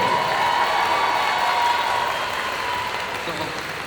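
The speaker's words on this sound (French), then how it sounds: "applaudissez bien fort" A convention crowd at the Bordeaux Geekfest cosplay contest applauds a cosplayer, producing a dense, steady wash of clapping and crowd noise that fades slightly toward the end.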